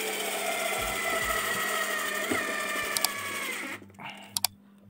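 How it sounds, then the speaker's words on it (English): A power screwdriver whirs steadily, driving screws into a Mackie SRM450 active speaker under repair, running for several seconds before stopping abruptly, followed by a couple of faint clicks. "we'll fix now only two screws only."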